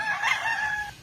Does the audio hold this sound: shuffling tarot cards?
no